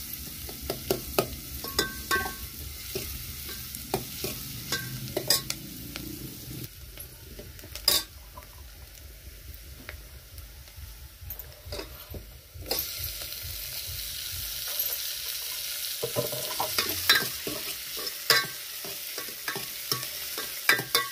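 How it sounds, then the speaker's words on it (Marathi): Onion frying in a pan after garlic for a mutton curry, a loud close sizzle with frequent spatula scrapes and knocks against the pan, the hiss growing brighter partway through. "त्यानंतर कांदा तळून घेते."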